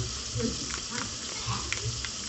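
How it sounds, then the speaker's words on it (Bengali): Potatoes frying in oil for a raw jackfruit and potato curry give off a steady, close sizzle with faint scraping and stirring at a moderate level throughout. "আলুটা মোটামুটি ভাজা হয়ে এসছে"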